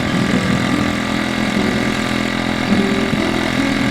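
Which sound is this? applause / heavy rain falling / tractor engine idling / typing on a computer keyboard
tractor engine idling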